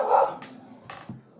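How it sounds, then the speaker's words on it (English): A female dog barks indoors: two or three short, sharp barks close by, with brief quiet between them. "that's my dog. She's barking."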